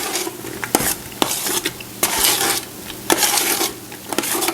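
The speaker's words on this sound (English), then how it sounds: "I'm going to bring this to a full rolling boil." A spoon scrapes and stirs around a pot of kumquat marmalade with sharp knocks against the sides, over a steady bubbling sizzle at a rolling boil on high heat, no voices.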